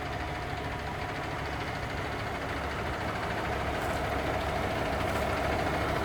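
A dump truck's engine idles in a residential driveway, a steady low diesel rumble with a faint knocking texture, constant and fairly close, with no talk over it.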